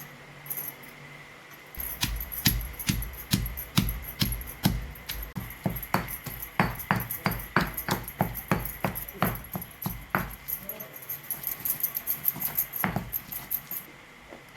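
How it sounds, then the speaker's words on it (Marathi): Chilli, garlic, cumin and coriander are pounded finely by hand in a traditional kitchen. Rapid, regular thuds and clinks repeat close by for most of the clip, with no talk. "अशा प्रकारे एकदम बारीक कुटून घ्यायचं आहे आपल्याला।"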